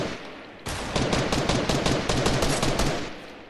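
Rapid bursts of automatic gunfire from the Fortnite video game, a dense loud volley of shots lasting a few seconds with no talk over it.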